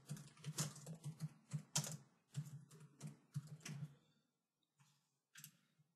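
Someone types a page title on a computer keyboard, a close, quiet run of quick key clicks in uneven bursts that trails off into a few final taps.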